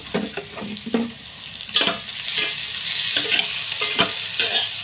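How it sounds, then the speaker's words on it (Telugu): Onions fry with salt in a pan, a steady hiss of sizzling broken by repeated scraping and stirring knocks, close and fairly loud with no voices. "ఈ ఉల్లిపాయలు అయితే ఫ్రై అయిపోతున్నాయి ఇంకా కొంచెం ఫ్రై అవ్వాలి"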